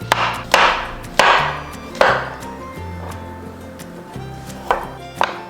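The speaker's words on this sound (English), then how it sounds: "Slice button mushrooms thick." A knife cuts thick slices of button mushrooms on a cutting board for a Korean stir-fry of spicy eggplant and beef, giving about eight separate chopping thuds at an uneven pace, close and fairly loud, with no talk.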